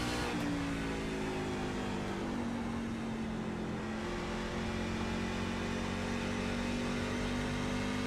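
Race truck engines in an Iowa oval racing video game drone steadily at high revs, a dense buzzing pack of motors with slowly rising pitch, continuous and fairly loud with no talk.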